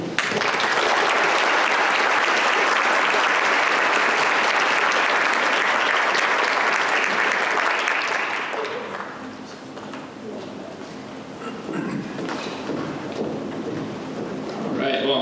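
An audience applauds to welcome the moderator at an evening talk, with loud, dense clapping that holds steady for about eight seconds, then thins out and fades under murmuring and movement.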